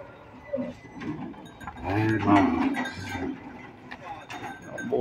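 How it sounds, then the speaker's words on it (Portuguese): Cattle being unloaded from a truck in Tabira, Pernambuco, low moos rising over shuffling hooves and a clanking bell, with people talking nearby throughout. "Olha o tourão ali, desembarca."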